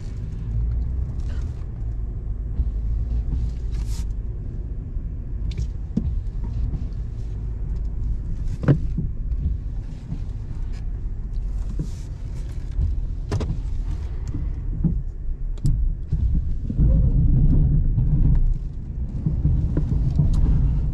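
Steady low rumble of a 2024 Chevrolet Silverado 2500HD crew cab pushing shallow snow with a plow at a dealership lot, heard from inside the cab with occasional faint clicks and knocks over the engine drone.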